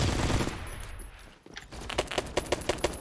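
Gunfire in the Phantom Forces video game: a dense burst of shots at the start, a brief lull, then a rapid, evenly spaced string of loud automatic shots.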